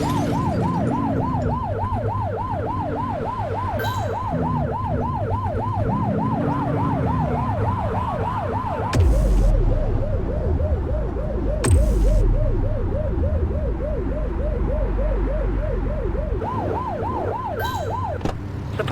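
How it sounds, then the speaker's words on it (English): Police car siren in the cop video game The Precinct, loud and close, cycling through rapid warbling wails and slower sweeping tones, with brief bursts of engine and impact noise beneath. "Get behind them and blip the siren to make them pull over."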